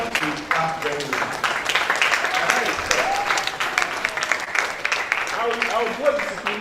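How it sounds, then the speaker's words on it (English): Applause from a workshop audience at a university project writing session, a steady patter of many hands clapping that fills the room, with voices talking over it. "I thought you clapped very well."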